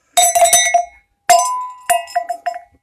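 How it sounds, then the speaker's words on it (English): A brass cowbell stamped with an om symbol and set with a jewel is rung three times in quick clusters, each burst of bright metallic clanks ringing and fading alone at close range. "More cowboy bell."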